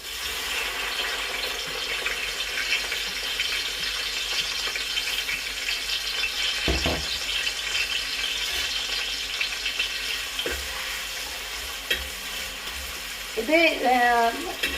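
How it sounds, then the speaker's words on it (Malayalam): Ginger, garlic and green chilli frying in hot coconut oil while cooking a Kerala beef dish: a steady, hissing sizzle throughout, with a few utensil knocks and scrapes and a brief whistling tone near the end. "തേങ്ങാക്കൊത്ത് കോരിയ അതേ വെളിച്ചെണ്ണയിൽ നമുക്ക് ഇഞ്ചി, വെളുത്തുള്ളി, പച്ചമുളക് ഇത് 3ഉം കൂടി ഇതുപോലെ വറുത്ത് വരാം."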